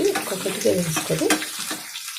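Garlic and dried red chillies sizzling in hot oil for a rasam, a close, busy crackle with bursts of spattering and stirring over a couple of seconds.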